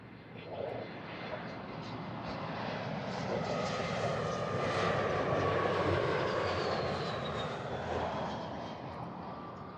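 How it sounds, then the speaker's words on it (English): An airliner arriving on the flight from Zurich at Amsterdam Schiphol, a steady jet engine roar that swells to a peak midway and slowly fades, heard alone with no talk. "It's the flight from Zurich"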